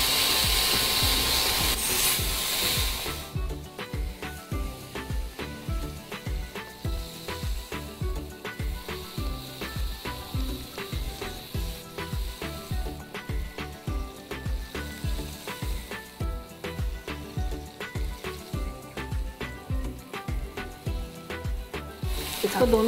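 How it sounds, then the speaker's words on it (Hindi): Marinated tandoori soya chaap shallow-frying in oil in a pan, a steady close sizzle with rhythmic rubbing and scraping as the pieces are moved and turned, running throughout after a louder burst at the start. "अब इसके अंदर हम ये मैरिनेट की हुई चाप डाल देंगे।"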